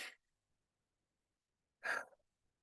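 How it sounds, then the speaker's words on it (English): Slow, deep breathing during a calm somatic practice: two soft, airy exhalations like gentle sighs, close and quiet, separated by nearly two seconds of silence. "A couple more breaths here."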